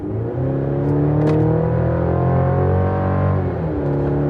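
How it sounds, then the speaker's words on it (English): A 2023 Chevrolet Colorado ZR2 4WD pickup truck engine revs up and holds a loud, throaty drone, its pitch rising and settling, close by with no talking. "Actually, not even a bad engine sound."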